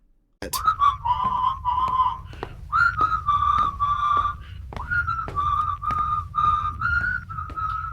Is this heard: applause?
no